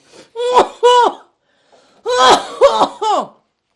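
Harsh, raspy coughing fits from people smoking a huge quarter-pound joint, two close coughs, a pause, then a longer cluster of three or four hacking coughs, loud and near.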